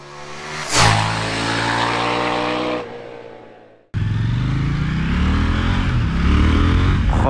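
A KTM Duke 890R motorcycle engine revs hard and loud up through a gear, the pitch climbing steadily, then cuts off briefly before roaring again under renewed acceleration at close range.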